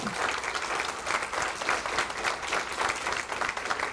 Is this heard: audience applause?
yes